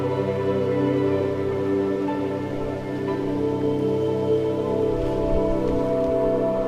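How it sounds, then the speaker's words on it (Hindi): Steady rain soaks the trees on a Himalayan hillside in Uttarakhand during the monsoon, a dense, even patter and hiss that fills the scene continuously with no voices over it. "सामने के मेरे ये पेड़ आज बरसात में भीग रहे हैं"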